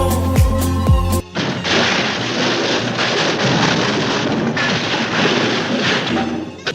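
A DJI Mavic Pro drone crashing in New York City, heard as a sudden loud impact followed by sustained rumbling, crashing noise that fills the rest of the moment, preceded by a brief musical tone.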